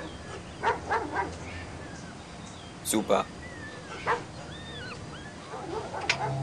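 Mistreated fighting dogs in the TKKG video game, giving a few short yips and whimpers with brief barks at intervals, moderately near, mixed with talk.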